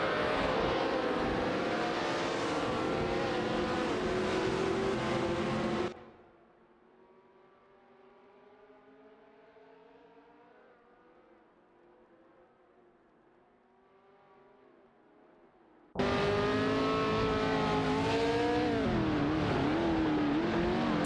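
Race car engines in an AI racing video game, two cars running close together with a loud sustained engine roar, dropping to a faint distant hum in the middle before the roar returns.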